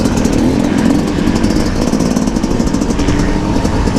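2019 Yamaha YZ250 two-stroke motorcycle engine running loud and close, a steady buzzing rasp with rapid pulsing throughout.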